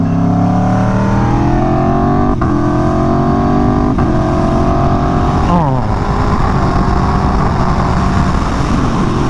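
An Aprilia Tuono V4 Factory motorcycle engine revs and shifts gears while riding at speed on a dirt road, with wind rush; a voice briefly exclaims over it.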